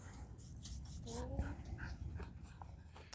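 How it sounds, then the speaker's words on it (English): Dogs whimper and pant at a distance with one brief bark-like yelp, faint and mixed with outdoor background noise. "dogs going nuts behind me"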